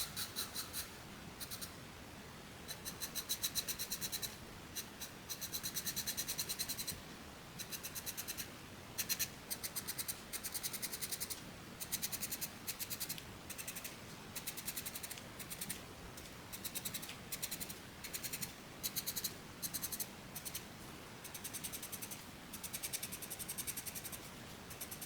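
Pencil strokes on paper while shading a sphere, a steady series of soft, close scratchy bursts in a regular back-and-forth rhythm with brief gaps between.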